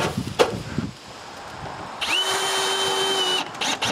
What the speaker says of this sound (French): Il faut seulement la visser au mur.